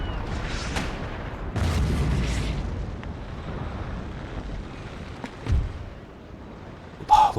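Ship cannons firing in an Empire: Total War pirate naval battle, heavy booms rolling out at a distance with a broad rumble, a few separate blasts spaced apart, and a sharp impact near the end.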